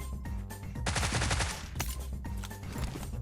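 Rapid bursts of automatic gunfire from a PUBG Mobile match crackle in a dense volley lasting about a second, with sparser shots before and after, mixed with game sounds.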